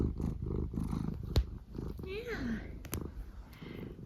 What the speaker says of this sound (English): I hear the purrs.